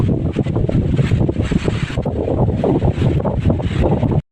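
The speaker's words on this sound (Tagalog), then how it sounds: "So mahangin dito guys." Strong wind buffets the microphone in loud, gusty rumbling bursts in a harvest field in the Philippine countryside, continuous for several seconds before cutting off abruptly.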